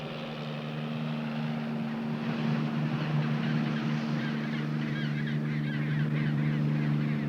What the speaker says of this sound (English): They are ring-necked Magellan penguins, named for the famed explorer who described the flightless birds as strange geese.